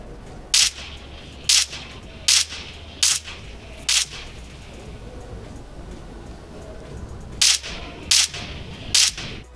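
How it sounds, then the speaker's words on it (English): Sharp, distinct video game gunshots in BGMI, heard through OnePlus Bullets Z2 earphones, ring out in irregular bursts of single shots, separated by short pauses, over a low steady background hum. "try to observe the sound, firing sound,"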